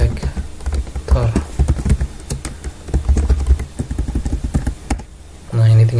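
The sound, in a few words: typing code on a computer keyboard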